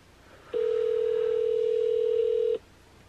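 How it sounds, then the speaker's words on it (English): A single steady telephone ringing tone sounds for about two seconds on its own, then cuts off into quiet. "let's give this guy a call. I don't know if it's ringing or not."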